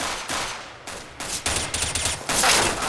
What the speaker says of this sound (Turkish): Abi iki yandan sıkıyorlar bu ne ya?